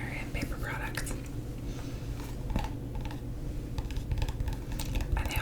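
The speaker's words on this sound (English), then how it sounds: "And they also make good tapping sounds, just like books." Soft, quick tapping on paper under a quiet whispering voice, with light irregular taps scattered throughout at close range.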